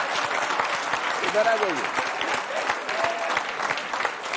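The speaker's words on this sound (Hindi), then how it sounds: "कोई तो कारण है कि जो आप ताली बजा रहे हैं।" Political audience at a televised Indian debate applauding steadily, a dense continuous clapping wash throughout, with a voice speaking over it.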